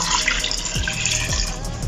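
Water pours steadily into a cooking pot holding protein, pepper, salt, seasoning cube and crayfish for afang soup, a close continuous splashing gush with bubbling and a rising filling tone.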